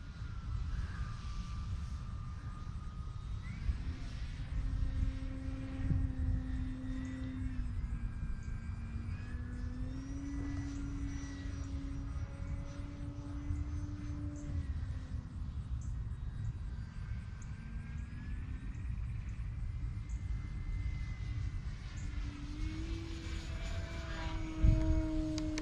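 E-Flite Turbo Timber 1.5 RC planes hovering and drifting in the wind with flaps down, their electric motors whining steadily with rising and falling pitch over constant wind rumble, heard at a moderate distance with no talk.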